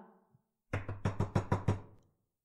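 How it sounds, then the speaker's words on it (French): A run of six firm knocks on a door lands in quick, even succession, loud and close, after a brief quiet stretch with a faint low rumble. "quelqu'un cogne à la porte"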